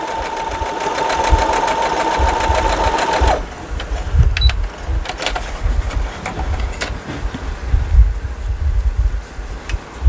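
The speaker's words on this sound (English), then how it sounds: "And get that stitched together." A sewing machine stitching quilt pieces together for a corner unit, a loud, close, steady whirring run for about three seconds, then stops; handling knocks and bumps follow.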